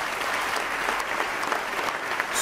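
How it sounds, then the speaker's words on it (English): Steady applause from the audience at a Catholic men's conference as gold sponsors are thanked, a dense continuous patter of clapping hands with no clear voice over it, sustained and even for the whole stretch. "So give them a round of applause"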